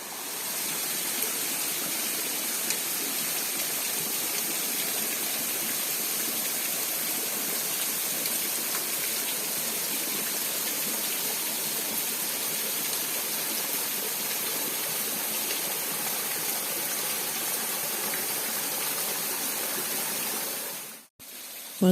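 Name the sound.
Curug waterfall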